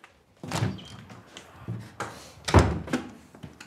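Someone bangs on a locked door in a tense dramatic scene: several heavy, irregular thumps land close by, separated by short pauses, with the loudest blow near the end.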